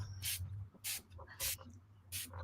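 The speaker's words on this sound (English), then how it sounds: "I want to spray this all the way across." Golden Sunflower paint is sprayed across a stencil in four short, loud hissing bursts, evenly spaced, with quiet gaps between them.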